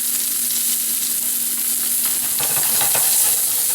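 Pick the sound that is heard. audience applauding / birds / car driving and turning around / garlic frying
garlic frying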